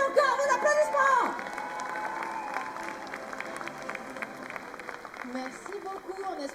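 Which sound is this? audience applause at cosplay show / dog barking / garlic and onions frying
audience applause at cosplay show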